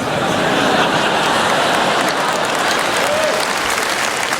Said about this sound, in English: I love how you're clapping this one because you sort of know it.